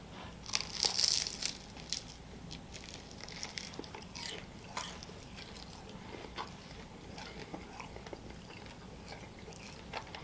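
Crunchy bites into a curry chicken wing, loudest crackle early on, then softer chewing and crinkling sounds close to the mic with no talking.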